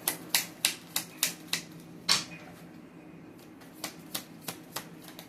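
Tarot cards are shuffled and drawn in a run of crisp, evenly spaced riffling snaps, close and fairly loud. The snaps pause briefly midway, then resume in a steady rhythm with no talking.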